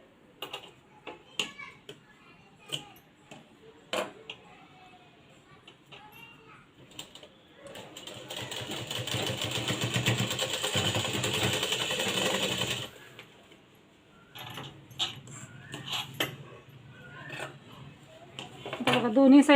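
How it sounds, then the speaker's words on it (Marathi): A sewing machine stitching piping onto a blouse runs in a steady close whir for about five seconds, framed by clicks, handling of fabric and short bursts of the machine before and after. "इथं शिलाई मारून घ्यायची आहे"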